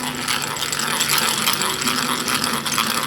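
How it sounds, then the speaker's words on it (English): A drill bores pilot holes into a wooden guitar head, giving a continuous whirring, grinding buzz, close and steady throughout. "Do the pilot holes to be able to do the groove."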